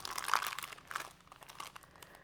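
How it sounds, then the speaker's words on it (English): Crumpled, folded baking paper tucked inside a handmade junk journal crinkles and rustles close up in a few crisp bursts, the loudest near the start, then fades to softer crackles. "I put baking paper in there. I folded it and I crumpled it so it's fluffy, and it makes this really nice sound."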